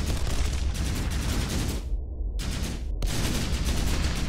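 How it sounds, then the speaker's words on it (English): Broadsword main cannons fire in the video game Executive Assault 2. The barrage is loud and dense, with a continuous roar of blasts broken by two short gaps. "The main cannons from that broadsword are just scary good."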